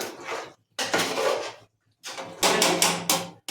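A ladle scrapes and clatters against a pot while marinated chicken for biryani is stirred, in several loud close bursts separated by short pauses.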